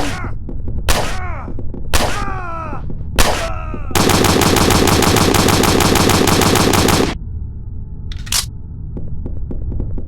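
Gunfire in Hidden & Dangerous Deluxe, modded: a few separate loud shots, then a dense sustained automatic burst lasting about three seconds, followed by one more short shot, with no talking.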